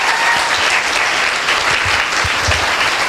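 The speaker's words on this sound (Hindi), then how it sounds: "एक जोरदार ताली होनी चाहिए दोस्तों" An audience at a motivational network-marketing gathering claps loudly and continuously, a dense wash of hand claps with a few sharper individual claps standing out.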